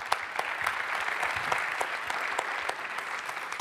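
An audience claps at an awards ceremony for SEO professionals in Paris: dense, sustained applause with sharp individual claps standing out, moderately distant and continuing steadily without a break.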